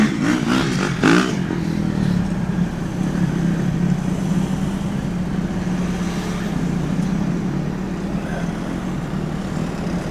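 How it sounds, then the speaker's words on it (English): A motorbike passes through slow, diverted traffic on a road near Newport, its engine drone steady and fairly loud with some rattling, blended with surrounding vehicle rumble and no talk. "Spot the idiot on the motorbike."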